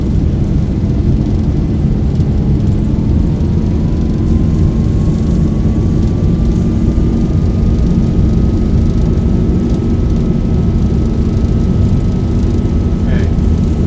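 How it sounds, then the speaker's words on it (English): Airliner jet engines roaring during the takeoff roll at Prague, a steady loud drone heard from inside the cabin with a slowly rising whine as the engines spool up and the aircraft accelerates. "And we are ready for takeoff."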